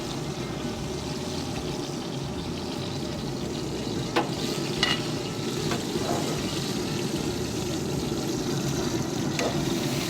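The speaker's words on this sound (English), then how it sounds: "real quick, I'm going to sear the edges." Beef tenderloin Wellington searing on the edges over a Z Grills grill gives a steady, dense sizzle throughout, with a few brief clicks and taps on top and no talk.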